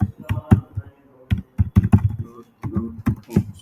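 Keys clatter on a computer keyboard as a website address is typed, in quick irregular bursts of close, crisp clicks with brief pauses between them.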